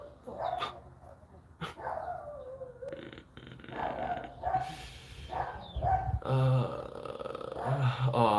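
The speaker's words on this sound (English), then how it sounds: "But that dog doesn't have any chill." A dog barks again and again in loud, insistent bursts, with short pauses between volleys, and a voice is faintly heard now and then among the barks.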